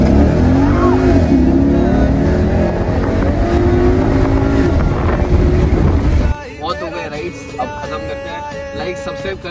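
A Ford Mustang GT sports car accelerates with a loud engine roar heard from inside the cabin, heavy wind buffeting the microphone, before the noise drops abruptly near the end.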